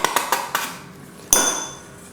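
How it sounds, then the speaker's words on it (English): A spoon knocks and clinks against a small pot while mayonnaise and mustard are mixed, giving four light taps early on and one sharper ringing clink later, close and alone. "get a little pot, mix up the mayonnaise and the mustard"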